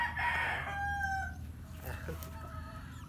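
A rooster crows once, fairly close and clear, the call trailing off into quiet farmyard background noise.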